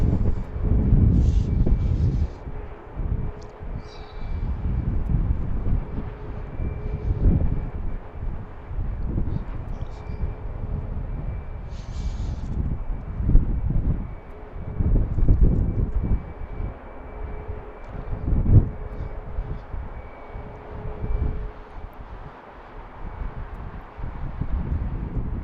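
An arriving airliner at Baltimore BWI airport gives a steady, fairly distant low engine rumble lasting throughout, with strong gusty wind buffeting the microphone and a faint tone running underneath.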